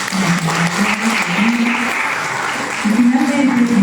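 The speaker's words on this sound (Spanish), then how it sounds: "Un aplauso también para" Steady applause from an audience at an awards ceremony, a dense wash of clapping that swells slightly toward the end, with a voice speaking over it.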